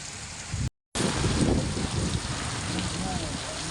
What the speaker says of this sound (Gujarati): વરસાદ ચાલુ થઈ ગયો છે જબરદસ્ત